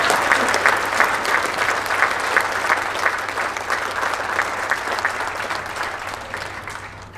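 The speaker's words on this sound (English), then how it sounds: "Give them a round of applause" Sustained applause at a community luncheon honoring Honor Flight volunteers, a dense, even clapping from many hands around tables that carries steadily and tapers slightly at the close.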